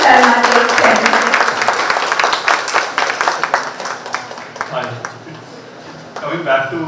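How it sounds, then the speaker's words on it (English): An audience at a college fashion management event gives a round of applause, with loud, distinct claps at first that gradually thin out while a voice speaks over them. "Requesting everyone for a round of applause as Mr. Sharma takes tenure."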